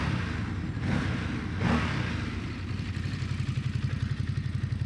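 Ducati Desert X motorcycle with its stock exhaust, its engine running steadily up close with a loud, rough mid-range rumble and two brief swells in revs, ending in a rapid pulsing throb.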